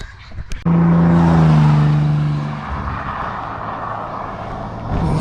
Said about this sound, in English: we're driving really fast along 7 Mile Beach Road, mate